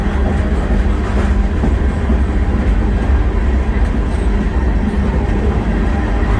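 Steady rolling rumble from inside a moving passenger train car west of Glasgow on a plains route, at its fastest since leaving Havre, with a faint continuous clickety-clack of wheels over rail joints, close and fairly loud, no talking.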